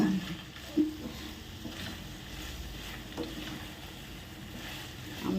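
Okra curry frying in oil is stirred in a pan, giving a soft, steady sizzle with occasional scraping and clinking from the stirring, fairly quiet and close.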